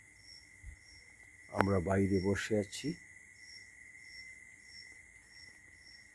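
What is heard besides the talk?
crickets chirping at night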